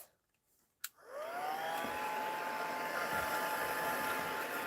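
A heat tool blows a steady, loud rush of hot air over watercolour masking on a stamped card, starting after a brief click and holding constant to the end.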